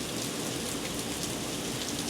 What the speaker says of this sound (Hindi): ऐसे बारिश हो रही है जैसे पता नहीं मतलब 10 साल से बारिश नहीं हुई है यहाँ पे।